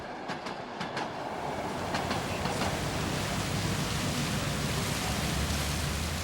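The Trans-Siberian train rolls steadily toward Ulan-Ude in Buryatia, a dense, continuous rumble and hiss of the moving carriages with a few faint rhythmic clicks early on.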